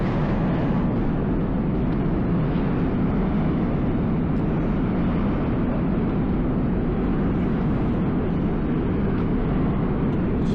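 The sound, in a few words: train crossing the Manhattan Bridge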